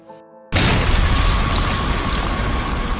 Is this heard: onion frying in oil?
no